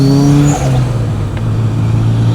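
Built 2.1-litre 500 bhp Subaru Impreza WRX STI engine revving loud and close from inside the car, a steady engine drone with a rising turbo whistle over it.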